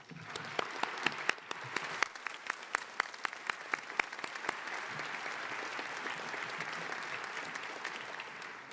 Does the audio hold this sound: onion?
no